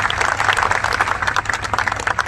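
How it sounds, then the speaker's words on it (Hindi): Audience applause fills a university hall, a dense steady clapping from a large crowd that holds for the whole stretch with no talk over it. "एक बार जोरदार ताली होनी चाहिए।"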